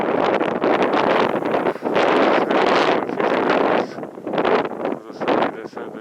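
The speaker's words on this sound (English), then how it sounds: "the wind is too strong" Strong gusting wind buffets the microphone on a wintry mountain in Kananaskis, a loud continuous roar with surging and easing gusts; a voice may be faintly present beneath it.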